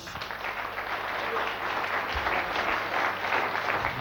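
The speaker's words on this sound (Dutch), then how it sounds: "Stella, geef ze eens een applaus." Audience applause at a 1989 carnival sitting evening in a Dutch village hall, dense sustained clapping from a seated crowd that swells slightly midway and continues without pause.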